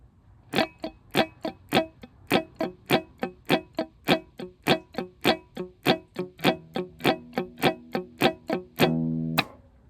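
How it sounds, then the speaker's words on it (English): Muted funk guitar strums chop out in a steady sixteenth-note rhythm, about two dozen percussive hits with the strings not fully pressed, ending with one open ringing strum. "Let's get those muted hits where we're not fully pressing"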